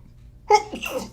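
A single close, sharp sneeze bursts out after a brief quiet, followed by a short breathy trailing sound.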